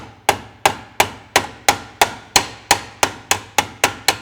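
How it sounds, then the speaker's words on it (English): Twelve sharp, evenly spaced hammer taps ring out close by, knocking a 1920s tubular convertible top section back into place, each strike decaying quickly before the next. "Just carefully tap that down."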